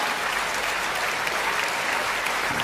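A crowd applauds at a kavi sammelan poetry gathering, a thick, sustained wash of clapping from a large audience holding a steady loudness from start to finish.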